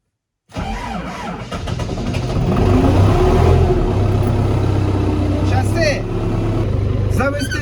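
An MTZ 892 tractor engine starts on a frosty day, cranking and then catching into a loud, rough, steady diesel roar that rises and holds, while a person talks over it.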